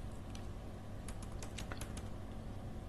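Quick, light keystrokes on a computer keyboard while entering a spreadsheet column, a short burst of several clicks in the middle over a steady low background hum.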